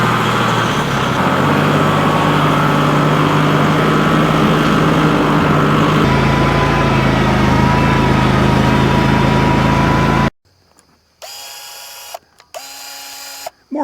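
A tractor engine with a bush hog attached runs loud and steady close by with mechanical rattling, then cuts off abruptly and is followed by short bursts of beeping or whining tones.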